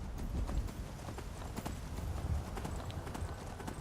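Rapid rhythmic clip-clop of horse hooves galloping in Skyrim, steady and close, continuing throughout with a game-like background hum.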